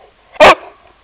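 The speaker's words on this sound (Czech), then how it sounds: "Co je? Proč štěkáš?" Dog named Peggy letting out one sharp, loud bark close by, short and alone, with faint quiet background before and after.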